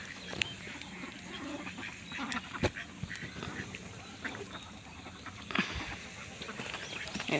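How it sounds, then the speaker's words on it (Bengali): Ducks on a rural homestead quack as they walk off, the calls scattered and moderately close over a steady outdoor background. "হাঁস মুরগি, এই যে হাঁসগুলো চলে যাচ্ছে।"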